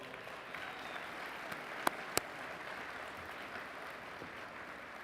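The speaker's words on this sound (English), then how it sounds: "I think that deserves some applause" A convention audience at a farm bureau closing session applauds, a broad even wash of clapping from a large crowd in a hall, heard at a distance and fairly quiet, with two sharp nearby claps standing out.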